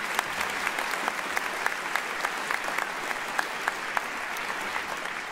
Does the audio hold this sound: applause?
yes